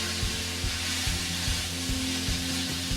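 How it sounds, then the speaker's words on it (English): Meat browns in a hot pan for smoked queso dip, giving a steady dense sizzle with periodic low knocks and stirring scrapes, close and continuous with no talking. "We're going to try to brown the meat up here a little bit."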